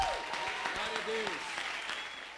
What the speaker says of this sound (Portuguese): Quem pode aplaudir o nosso Deus?